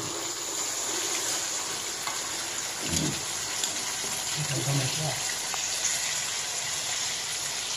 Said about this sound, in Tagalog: Lagyan ng konting tubig.